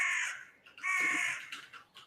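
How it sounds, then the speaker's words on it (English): A crow or raven caws in the background, with about three harsh, ragged calls in quick succession, fairly clear against a quiet backdrop. "there sounds like there is something like a raven or a crow crowing in the background there"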